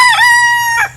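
An aggressive rooster crows loud and close, a strained rising call that breaks off and then gives a second short squawk, with no talking over it.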